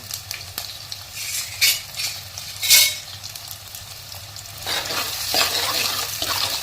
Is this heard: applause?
no